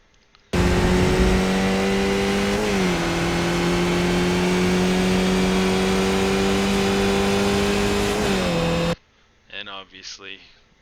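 Skip Barber race car engine in iRacing at Mid Ohio holds a steady loud drone with a quick pitch shift during a gear change, then cuts off before brief talk at the end.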